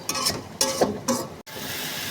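Malabar spinach (pui shak) frying in a pan, giving a steady sizzle broken by several bursts of stirring and scraping against the pan, close and fairly loud, with no voices.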